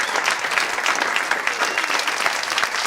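A stand-up comedy club audience claps and applauds steadily for about three seconds, a dense, even wash of many hands with no voices standing out.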